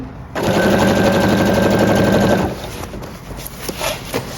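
A sewing machine stitches a large camouflage groundsheet, running in one loud, steady mechanical burst of rapid needle strokes before stopping, followed by quieter fabric handling and movement.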